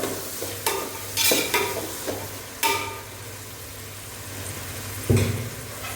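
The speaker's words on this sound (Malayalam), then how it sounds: "എല്ലാം ഇട്ടിട്ട് നന്നായിട്ടൊന്ന് വഴറ്റിയെടുക്കണം" Onion, tomato, green chilli and curry leaves are sautéed in a pan for a traditional Lakshadweep biryani: a steady close sizzle with a low hum, broken by several sharp spatula scrapes and stirring knocks.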